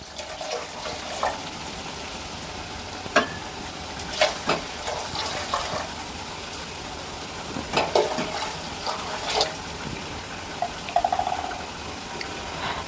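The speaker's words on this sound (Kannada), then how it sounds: "ಇವಾಗ ಇದಕ್ಕೆ ಮೂರು ಲೋಟ ನೀರು ಹಾಕೋ ಲೋಟದಲ್ಲಿ ಮೂರು ಲೋಟ ನೀರು ಹಾಕೋತಾ ಇದ್ದೀನಿ" Water poured into a pot of dal khichdi with turmeric and salt, giving faint splashes and scattered sizzling crackles over a low kitchen hiss, with no one speaking.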